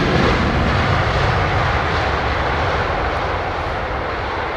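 Loud, steady roar of airliner jet engines at Heathrow Airport, a broad rumble that holds level and eases only slightly over a few seconds.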